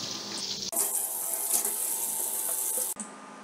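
Tap water running hard into a kitchen sink while a greasy cooking vessel is rinsed, a loud steady gush that starts abruptly and cuts off near the end.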